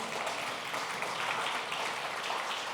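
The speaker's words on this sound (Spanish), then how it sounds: "aplauda la palabra de Dios este día" A church congregation applauds steadily and loudly for a few seconds, dense clapping that fills the room with no voices over it.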